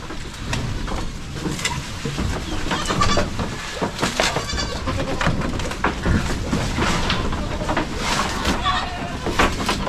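Several goats bleat repeatedly, near and loud, on a Philippine farm where many nannies have just given birth, with a busy background of other animal noise and people talking.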